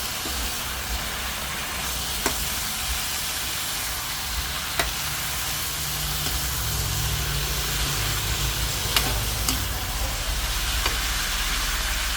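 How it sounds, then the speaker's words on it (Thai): Spicy eel with holy basil and cumin leaves stir-fries in a hot pan, giving a loud, continuous sizzling hiss that holds steady for several seconds, broken only by a few faint clicks of stirring. "ผัดให้อร่อยอร่อยแซ่บเผ็ดถึงใจเลยค่ะ"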